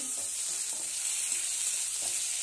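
Panch phoron spices sizzle steadily in hot oil in a pan while ghugni is being cooked, a continuous close frying hiss with faint soft crackles.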